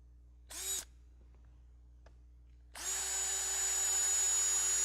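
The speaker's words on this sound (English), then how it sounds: "so I can drill a hole in there and keep them lined up" Power drill boring a hole in a part for a homemade walker: a brief whir that spins up and stops, a pause, then a longer sustained high-pitched run.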